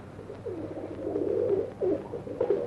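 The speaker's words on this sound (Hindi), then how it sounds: "बहुत देर से देख रहा हूँ ये कबूतर बड़ा सुस्त नजर आ रहा है।" A pigeon coos in soft, rolling phrases, repeated several times close by over a faint background hum, with no talk.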